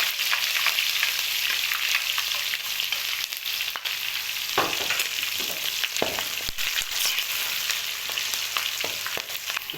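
Cumin seeds with green and dry chillies fry in hot oil while white daal mash is being made, giving a loud, steady crackling sizzle with occasional stirring scrapes and no talk.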